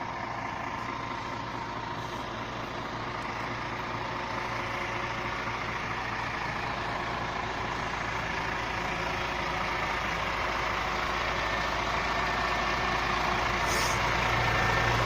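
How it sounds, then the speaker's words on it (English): A DAF CF 450 rigid 8-wheeler rear-steer truck with a lift axle idles steadily nearby, a low, even diesel rumble that holds for the whole stretch and swells slightly toward the end. "it's just a DAF CF 450 rigid 8-wheeler rear steer"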